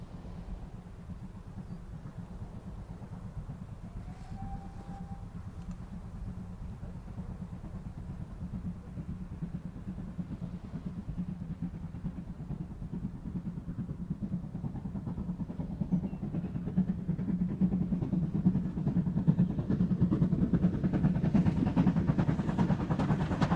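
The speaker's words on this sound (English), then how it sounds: "The exhaust was music to the ears when the engine, normally kept on the Severn Valley Railway, went to the West Somerset" British steam locomotive on the West Somerset Railway, a mid-range general-purpose engine visiting from the Severn Valley Railway, gives a steady low rumbling exhaust and running noise that swells and grows louder toward the end, with no talking.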